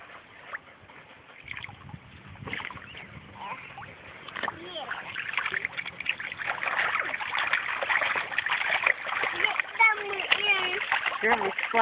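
Continuous splashing and sloshing of water in a pool, growing busier over time, with a voice and other voices talking over it.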